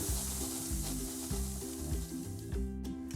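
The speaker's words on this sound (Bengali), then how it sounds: "বাকিগুলো আমার ভাজা হয়ে গেল" Boiled-potato pakoras sizzle steadily in hot oil, close and fairly loud, with a repeating low tonal pattern beneath and a brief clatter near the end.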